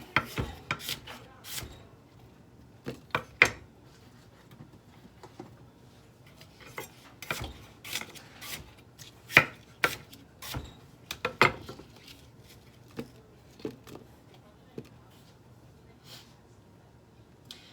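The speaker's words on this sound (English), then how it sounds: "We'll get a couple chops of apples as well in there." Apples being chopped on a cutting board for a green smoothie bowl: sharp, isolated knife knocks come at an irregular pace, close and distinct, with quiet gaps between them.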